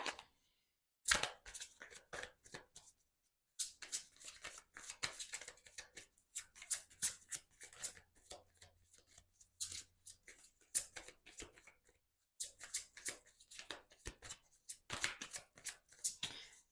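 Tarot cards shuffled by hand in bursts of soft riffling and flicking, with pauses of near silence between rounds; close and fairly quiet, no voices.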